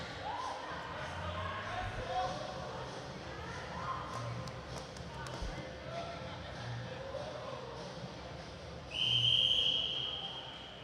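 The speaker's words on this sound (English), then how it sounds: "Let's listen out for that referee's whistle." A referee's whistle at a para-swimming meet gives one long, shrill blast near the end, heard over the echo of a crowd in an indoor pool, with a commentator talking throughout.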